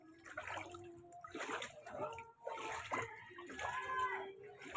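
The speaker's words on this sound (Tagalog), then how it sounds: "Lubog tayo sa baha." Someone wades through floodwater on a flooded street, making sloshing and splashing sounds with uneven surges of moving water, close by, mixed with voices talking.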